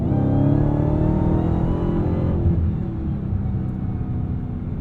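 A deep, throaty Dodge Challenger Hellcat Hemi V8 engine rumbles steadily nearby, loud at first and then easing slightly as the note settles into a lower drone.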